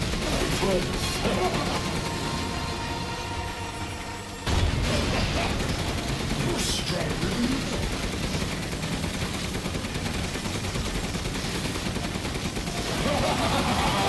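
Rapid machine gun fire from the Resident Evil Village video game, a dense continuous rattle of bursts running throughout with a sharp boom partway in, mixed with game sounds and someone talking over it.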